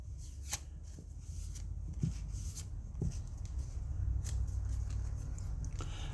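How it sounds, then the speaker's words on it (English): Large tarot cards being shuffled in crisp, repeated riffles, with a low steady hum underneath and no voices. "So I'm getting a pretty good mix with this."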